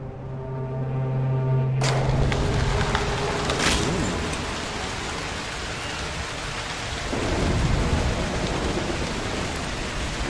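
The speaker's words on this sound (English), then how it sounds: "Alternate weather? Start a storm." A thunderstorm with heavy rain in the video game Broken Pieces, set in a French coastal village: steady rain hiss with a sharp thunder crack and rumbling roll, dense and loud throughout.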